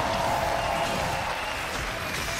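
A live esports arena crowd at a League of Legends EU LCS match cheers and applauds in a dense, sustained wash of clapping that fills the hall.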